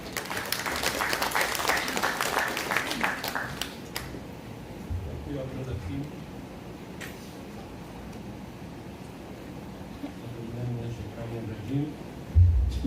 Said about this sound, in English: let us give a round of applause to the Senior Consultant of NCMF, Engineer Nazruddin Dianalan.